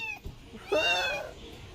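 A single cat gives one clear, drawn-out meow, close and alone after a short faint sound.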